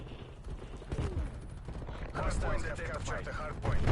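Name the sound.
light machine gun firing in Call of Duty: Cold War video game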